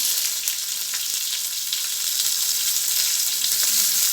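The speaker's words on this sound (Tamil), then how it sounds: "நம்ம கடுகு நல்லா பொரிஞ்சிச்சு வெங்காயம் சேர்த்துக்கிடுவோம்" Sliced onions frying with popped mustard seeds in a hot pan, a steady bright sizzle with faint crackles throughout; no talking.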